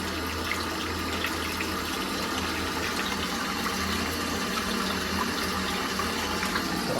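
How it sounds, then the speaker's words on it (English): Hot water from a boiler-fed tap runs in a steady, continuous stream, a broadband rushing close by and unbroken for several seconds with no voices. "That's all I've got, hot water."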